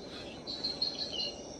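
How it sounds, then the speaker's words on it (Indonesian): Birds chirp in a Kalimantan forest, thin high calls repeating faintly over a quiet, steady background hum. "Tuh, suara burung tuh,"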